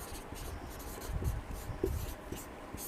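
Writing on a board during a physics lesson on projectile motion, a soft continuous scratch and rub of strokes heard close, with no talking over it.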